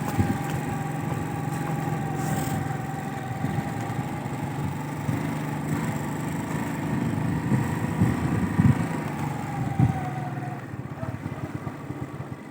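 A motorcycle engine rides along a snowy road in Azad Kashmir, a steady mid-pitched drone with a faint whine throughout, close and continuous with slight rises in revs.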